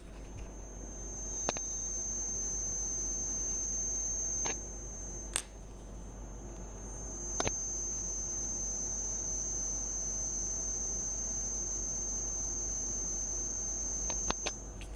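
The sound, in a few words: coil whine from USB-C hub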